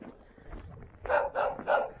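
Dogs in an outdoor enclosure in an old residential neighbourhood give three quick, fairly distant barks near the end, after a stretch of faint low background noise.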